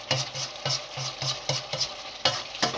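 Mutton being stirred and mixed with chili powder and ground dry coriander in a pan, with a steady run of soft scraping strokes over a light sizzle and no talk.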